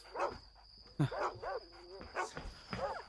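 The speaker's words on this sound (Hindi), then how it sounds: "इन कुत्तों को क्या हुआ?" Dogs bark in a film scene, several short sharp barks and yips at moderate distance, spaced irregularly across a few seconds, with a steady high electronic tone in the background.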